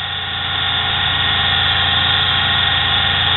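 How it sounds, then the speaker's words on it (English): Small cheap motor of a nano lathe turning a plastic part, a steady loud hum and whine that holds constant throughout with no talking. "It's just a cheap motor."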